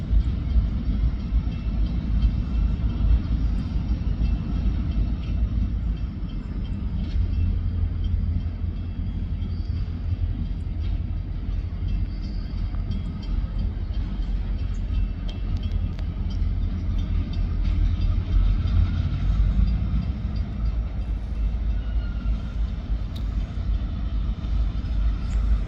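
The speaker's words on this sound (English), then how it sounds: "Looks like a pretty good train behind them." A freight train rolling past on the tracks, a steady, loud low rumble with continuous wheel and car noise that never lets up, close and unbroken throughout, with no talking.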